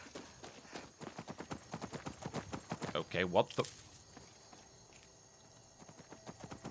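Spectral ghost horse hooves in modded Skyrim clop in a quick, regular walking rhythm, fairly close, broken midway by a brief spoken exclamation before the hoofbeats pick up again.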